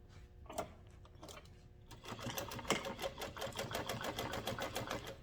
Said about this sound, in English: And then we will sew this down at a 1/2 inch seam allowance.